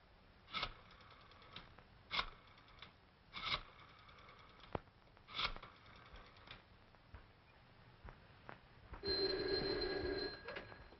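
An old-fashioned telephone bell in a 1938 detective drama rings in short, separate bursts, four times at roughly regular intervals. Fainter clicks and a longer mechanical rattle follow near the end.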